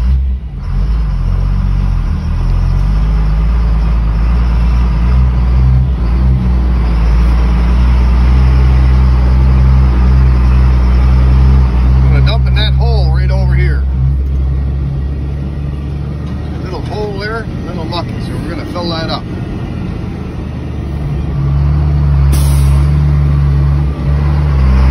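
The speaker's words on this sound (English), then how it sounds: "Pulling away after you're loaded. Put her in the gear, first gear." A loaded tandem dump truck pulls away in first gear, its diesel engine a loud, continuous low rumble that shifts pitch slightly as it moves off, with a voice talking over it.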